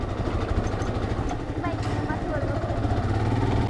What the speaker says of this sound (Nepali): बाइक जान्छ